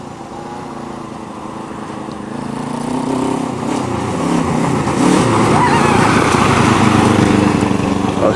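Motorcycle-engine powered go-kart driving on a farm, its buzzing engine note building and growing louder and rougher over several seconds as it accelerates nearby, with no talk over it.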